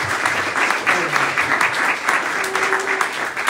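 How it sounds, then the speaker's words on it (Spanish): A church congregation claps at a Spanish-language sermon, dense sustained applause filling the room, with voices calling out underneath. "Dale un aplauso al Señor, por favor."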